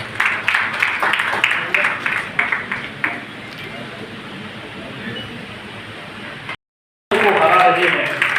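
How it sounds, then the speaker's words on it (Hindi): Audience applause at an award ceremony in Bikaner, with loud clapping near the start that fades into a murmuring hall, then cuts out briefly before more sound returns. "तो जोरदार तालियां ऐसी।"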